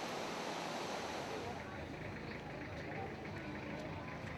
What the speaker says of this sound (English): I just love to hear the sound of the water gushing as I sleep in my tent.